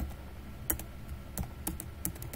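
Keys tapped on a computer keyboard while entering a shortcut in Excel, a handful of quick, close clicks in an uneven rhythm over steady background hiss.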